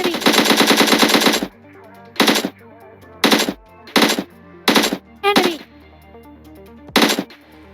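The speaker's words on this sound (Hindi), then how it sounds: "इतना दूर से AKM कौन मार रहा है यार" AKM rifle fire in a video game: a long, loud automatic burst, then several short separate bursts spaced a second or so apart, with no talking.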